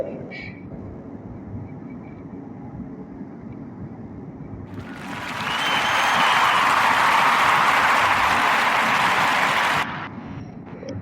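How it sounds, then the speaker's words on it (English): An applause sound effect bursts in midway, with dense clapping that swells up, holds loud for about five seconds and then cuts off abruptly, over a quieter background. "So clap it up"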